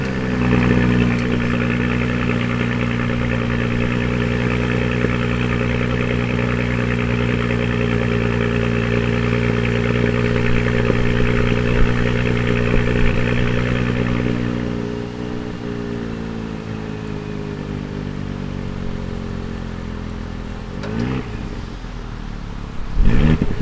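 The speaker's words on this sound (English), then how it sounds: "It is a 3-liter turbo V6 which produces 354 horsepower and 369 pound-feet of torque" A 2018 Audi SQ5's 3-liter turbocharged V6 running steadily at idle, a loud, even low drone with a constant hum that eases slightly partway through, followed by a brief rev or clatter near the end, without any talking.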